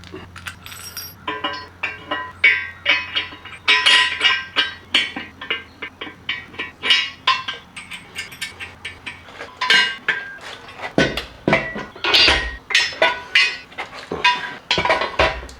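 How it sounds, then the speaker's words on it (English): Metallic clinks and rattles from pulling a pin and shifting a leg on a 2000 lb Harbor Freight folding steel engine stand, with close, irregular taps and jangles that come in quick bursts, heard alone. "So I have to pull that pin and move it to the other side."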